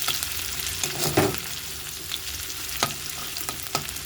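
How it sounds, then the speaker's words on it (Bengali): Onions crackle and sizzle in hot oil as a tempering for lentils, with a few sharp utensil clinks and stirring scrapes breaking through the steady frying noise. "পেঁয়াজটা ভাজা হোক, ভাজা হয়ে ডালটা দিয়ে দেবো।"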